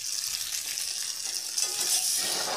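Tempering of cumin, mustard seeds, curry leaves and onion in hot oil gives a steady, close hissing sizzle with soft stirring, no voices.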